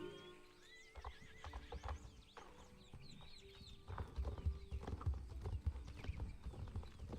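Horse hooves clip-clop steadily in a video game while a horse neighs and whinnies, with chicken-like clucks and other small creature calls mixed in, all fairly close and busy throughout.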